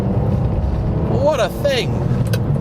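A Ferrari 612 Scaglietti converted to a manual gearbox holds 4,000 to 5,000 RPM, giving a steady close engine drone with a brief rising whine in the middle, under a short spoken remark.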